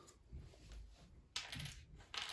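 Small board game tokens from a card game are handled and dropped onto a table, giving several sharp metallic clinks and rattles in quick bursts, close up and fairly quiet with no talking.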